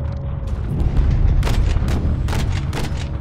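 An incoming missile strikes in Call of Duty Modern Warfare, a loud, deep boom with a rumbling tail, followed by several sharp blasts and gunfire bursts close by.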